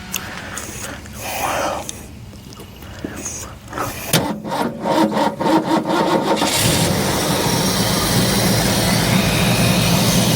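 A 1966 Ford Ranchero engine cranks with rapid rhythmic starter pulses, then catches and settles into a loud, steady idle, close by.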